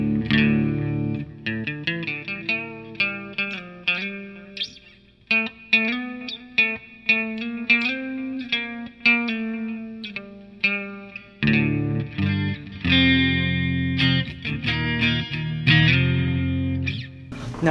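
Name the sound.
guitar through NUX MG100 amp distortion preset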